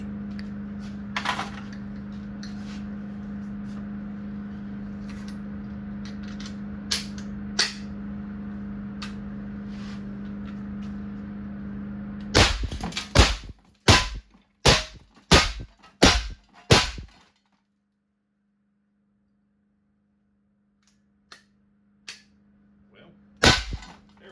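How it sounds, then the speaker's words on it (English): An AEA Bintac BW S45 .457 big-bore air rifle firing a custom 8-shot magazine, a quick string of loud, sharp cracks at an even pace, after steady background hum, then a couple of quieter clicks and one more crack. "So that's what we're going to be shooting, is 8 rounds out of my BW 45."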